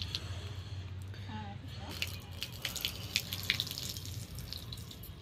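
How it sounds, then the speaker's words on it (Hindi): Water is poured as an offering during an Ahoi Ashtami puja, a steady splashing trickle lasting several seconds, with voices speaking close by. "जल तो इस हाथ से चढ़ाओगे"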